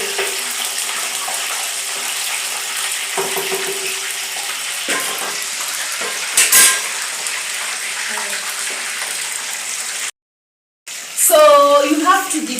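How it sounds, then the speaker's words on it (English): Chicken pieces deep frying in hot oil, a steady loud bubbling sizzle that runs nearly throughout, broken by a brief clatter and a short silent gap before a voice speaks over it at the end. "So you have to deep fry until they turn golden brown."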